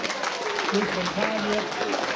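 Applause from the audience at a fashion show, a steady wash of scattered clapping with some voices talking over it.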